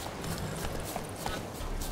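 A horse gallops in The Witcher 3 video game, its hoofbeats a fast, faint, steady clip-clop under a low background wash.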